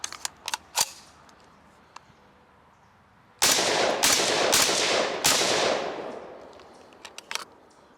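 A Kel-Tec RDB-C rifle shooting 62 grain ammunition: a few sharp isolated cracks, then a loud rapid burst of shots blending into a sustained roar before fading, with scattered fainter pops afterward.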